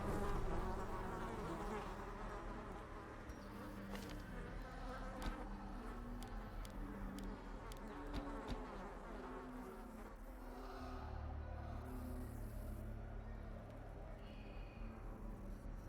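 A swarm of mosquitoes buzzes in the Darkest Dungeon game, a faint, steady insect whine with scattered clicks and short bursts over a low background drone.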